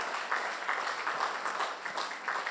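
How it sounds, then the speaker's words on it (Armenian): A church congregation applauds during a Sunday service, with steady moderate clapping from many hands throughout. "Եկեք ծափարենք մեր Տիրոջը։"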